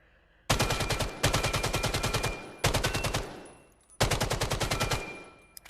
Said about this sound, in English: Now, there's actually a second AK. I haven't even tried this gun yet.